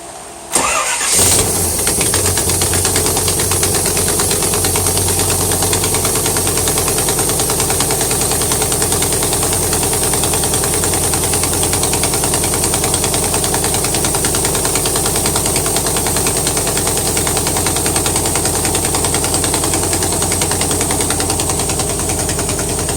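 A 1980 Camaro V8 fitted with Fi-Tech throttle-body fuel injection cranks briefly, catches and settles into a steady, loud, even idle that runs without interruption, an exhaust leak adding to the rumble, with no talking.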